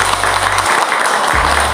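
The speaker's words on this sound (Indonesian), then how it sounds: "Tepuk tangan untuk Pak Tarno." A brief, loud burst of audience clapping at a grand opening event in a village setting, continuous and dense through its short length, with a low hum underneath.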